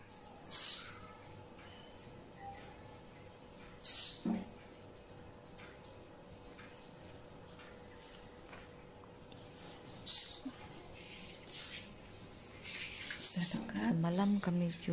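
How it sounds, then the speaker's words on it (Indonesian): A bird calls from somewhere above, giving four short, sharp calls spaced several seconds apart over a quiet outdoor background, with a brief rustle near the end. "Tapi macam ada suara burung lagi di atas."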